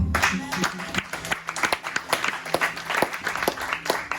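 Applause from a church congregation at a sermon on Jesus Christ, a dense steady wash of many hands clapping at moderate distance, with a voice briefly audible over it.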